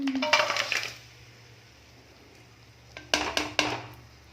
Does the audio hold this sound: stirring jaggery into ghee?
yes